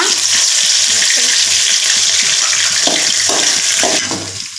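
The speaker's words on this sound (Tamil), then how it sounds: "அந்த ஆயிலில் கடுகு போட்டுக்கலாம். இஞ்சி பூண்டு பேஸ்ட் போட்டுக்கலாம். நெக்ஸ்ட்டு கருவேப்பிலை" Mustard seeds, ginger-garlic paste and curry leaves frying in oil for a pasta dish, a loud steady sizzle close by with a few faint scraping stirs and a slight drop in intensity at the end.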